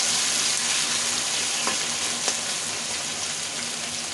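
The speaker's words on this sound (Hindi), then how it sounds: "सॉटे करेंगे" Tomatoes and onions sautéing in a pan for pav bhaji, a dense, even frying hiss close by with a couple of faint utensil taps, no talk.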